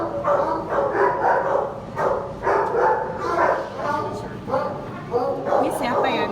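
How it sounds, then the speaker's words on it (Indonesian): Many dogs bark continuously in an animal shelter, a busy chorus of overlapping yaps and barks close by, with a person speaking over the din. "nggak tega dengernya mereka gonggong-gonggong gitu"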